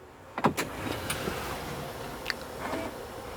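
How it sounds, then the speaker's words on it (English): An electric parking brake on a vehicle in limp home mode sets itself after the ignition key is turned on, giving off a few quiet clicks and a brief whirring motor hum, heard up close in a shop. "you can hear the parking brake set all by itself."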